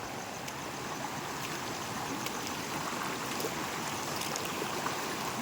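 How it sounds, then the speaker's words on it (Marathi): Loud forest stream rushing steadily, a dense broadband wash of flowing water that stays even and close throughout, with no voices. "इकडे पाण्याचा आवाज थोडा जास्त आहे, त्यामुळे आवाज येणार नाही."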